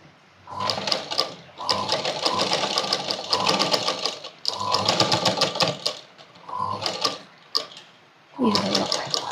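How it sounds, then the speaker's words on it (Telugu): An electric sewing machine stitches a cross-cut blouse decorated with stones, running in several whirring, rattling bursts separated by short pauses, close and loud. "ఇప్పుడు మనం వన్ సైడ్ కుట్టుకున్నాం"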